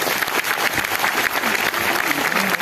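Loud, dense audience clapping at a product training session, a sustained burst of many hands at close range with no pauses across the whole stretch.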